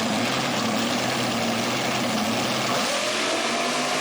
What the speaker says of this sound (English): RPMs come up and they're gone.